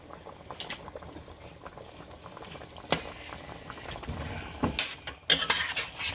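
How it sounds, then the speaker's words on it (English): Oxtail pieces lowered into a pot of boiling water for Jamaican-style oxtails, with a steady bubbling roil and a few louder splashes and clinks near the end, no talking. "We're going to go ahead and we're going to add back the oxtail to the water"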